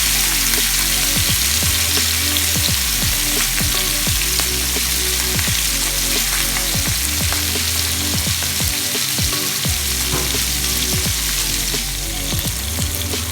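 Mackerel fries in hot oil in a pan, a loud, dense, continuous sizzle and crackle heard up close, with a faint regular ticking pulse running underneath and no talking.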